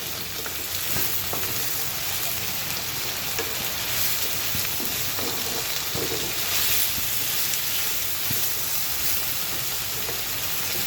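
Pumpkin pieces frying with onions in a hot pan, a close, continuous crackling sizzle with scattered pops and the occasional scrape of stirring, steady throughout and free of talk.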